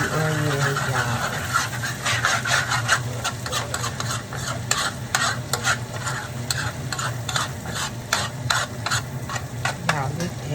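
Onions for homemade pot pie cook in a pan with a steady, loud sizzle and frying crackle, along with repeated stirring and scraping, no talk throughout.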